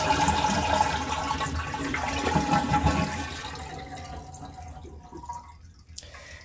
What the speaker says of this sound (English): I'm going to hold the valve open because I want the tank to completely drain.